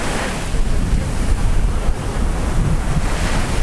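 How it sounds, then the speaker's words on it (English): Ocean waves breaking and washing up on a beach at Puerto Plata with the tide going out, a steady rushing surf with wind buffeting the microphone throughout. "Tide is going out, but we've got some pretty nice waves."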